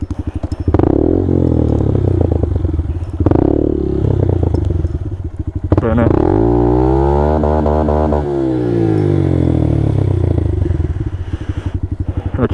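A Honda Grom motorcycle does a loud, close burnout on a green lane, engine revving hard and holding high with rising and falling pitch, gritty tyre scrub and clatter throughout.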